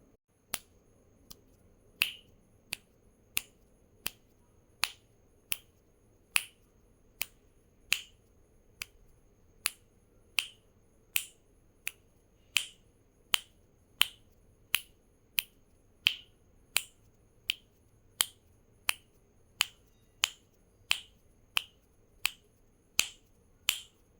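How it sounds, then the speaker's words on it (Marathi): Sharp, evenly spaced claps said to come from a Mahalakshmi idol at home, about thirty crisp snaps at a steady slow beat, close and clear over a faint low hum, with no voices. "अगदी रात्रभर हा टाळ्यांचा आवाज माता लक्ष्मीच्या मूर्तीतून येत होता"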